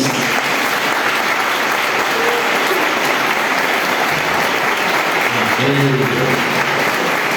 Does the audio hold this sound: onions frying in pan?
no